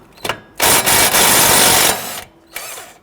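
A power tool with a 14mm socket spins off the upper ball joint pinch bolt nut on a 2008-2013 Infiniti G37 front suspension, a loud whirring burst lasting over a second, then a brief shorter burst.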